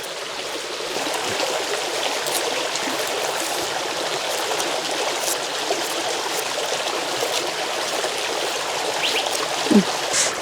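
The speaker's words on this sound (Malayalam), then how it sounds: "കഴുകി എടുക്കുകയാണേ. ഇതുണ്ട് വെള്ളക്കാച്ചിൽ, വെള്ള നീല എല്ലാം ഉണ്ട്. നന്നായിട്ടൊന്ന് കഴുകി എടുക്കട്ടെ." Purple yam being washed under running water in a kitchen, with a steady, fairly loud stream splashing throughout and a brief clatter near the end.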